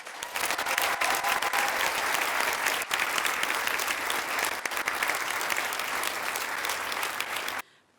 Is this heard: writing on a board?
no